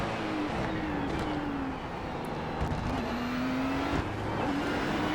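Ferrari 296 GT3 race car engine in iRacing at Monza, a steady loud engine drone with rising pitch sweeps as the throttle opens, brief dips between gear changes, continuous throughout.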